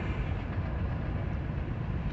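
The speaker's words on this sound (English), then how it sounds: "Can you hear the train?" Low, steady rumble of a train rolling past at a distance, heard from a field, a continuous muffled drone with faint rhythmic clatter and no voices.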